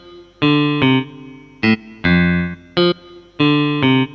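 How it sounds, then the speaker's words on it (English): Electric guitar-style synth notes from a Vangoa Aerophone MAE 02 wind controller ring out in short phrases with effects, separated by brief silences, played loud and up close. "Electronic guitar."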